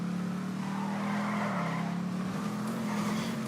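An engine roars steadily as a car drives and skids in the video game GTA Online, with a continuous drone and tire noise running throughout at a constant level.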